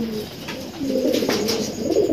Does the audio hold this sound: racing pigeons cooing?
yes